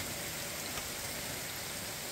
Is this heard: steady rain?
yes